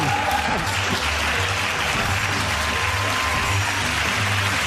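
A studio audience at a British TV comedy panel show claps steadily, a full, even wash of applause with a faint low hum beneath, sustained from start to finish.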